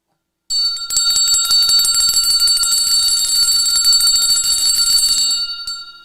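A bell rings in a bright, sustained metallic peal of rapid repeated strikes, loud and close, lasting about five seconds before fading, with no voices.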